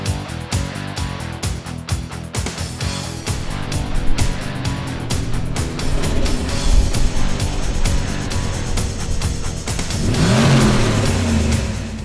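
A turbocharged 2000 Camaro SS engine revs on a dyno, with loud, steady roaring and rising pitch sweeps near the end, and no talk.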